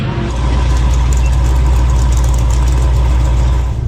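A supercharged Dodge Challenger with a Whipple blower rumbles loudly and steadily at a drag race, a deep continuous engine drone filling the whole moment without a break.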